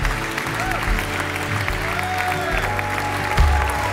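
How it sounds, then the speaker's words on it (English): A church congregation claps and cheers in a sustained wave of applause filling a large room, steady throughout with a brief louder swell near the end. "we're going to cheer you"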